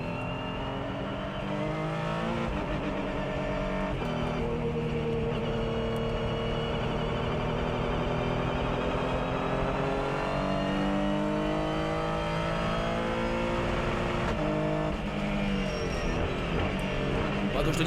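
Onboard view of a GT race car lapping the Barcelona circuit during an endurance race's opening lap, its engine droning loud and steady with rising and falling revs as it shifts through gears, other cars audible around it.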